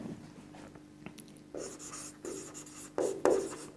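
Pen strokes writing notes during a Class 12 physics lesson on wave optics, a few scratchy bursts that grow louder toward the end, with no talking.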